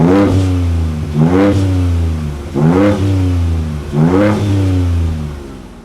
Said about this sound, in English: you can also change the modes of your exhaust